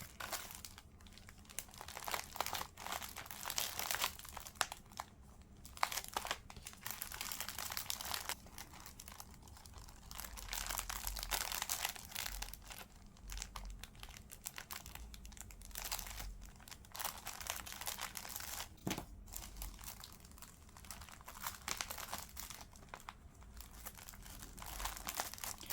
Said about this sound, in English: I will tape this section.